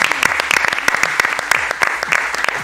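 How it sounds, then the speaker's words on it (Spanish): Audience clapping at a television show, dense and loud steady applause from a crowd, continuous throughout. "Un aplauso para mi tía Eva Ayón, por favor."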